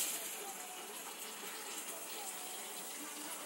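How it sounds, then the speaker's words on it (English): A waterfall in the video game Blockstrike, a faint steady rushing hiss of falling water running continuously in the background. "Nice waterfall."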